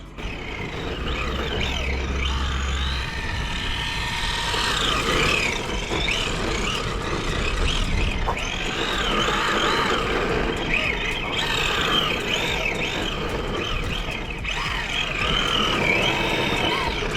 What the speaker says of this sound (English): It's all about going slow and smooth with the drift car.